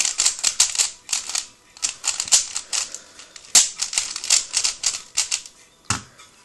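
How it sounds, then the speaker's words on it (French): A Rubik's cube is scrambled with rapid, crisp plastic clicks and clacks of turning layers in quick irregular bursts, close and alone. "on va mélanger le cube d'un coup"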